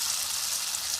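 Banana flower fritters (mochar bora) frying in hot oil give off a steady, dense sizzle with a fine crackling hiss, close by and unbroken for the whole moment.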